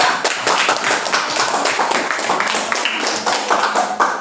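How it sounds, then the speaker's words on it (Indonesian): A classroom of students applauding a presenting group, steady overlapping hand claps from a small crowd sustained for several seconds at fairly close range. "Beri tepuk tangan untuk kelompok 2."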